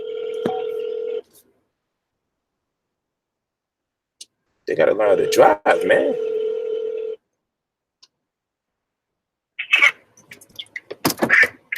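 A telephone call is placed from inside a car: a steady tone, then dialing tones and clicks, followed by rising electronic ringing near the end. Someone speaks briefly in between.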